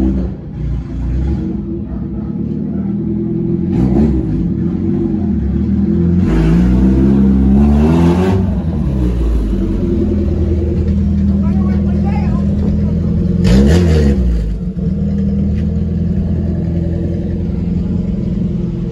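A car engine after a fuel pump upgrade, idling with a low rumble and then revving up in several rising surges, loud and close, with a voice speaking over parts of it.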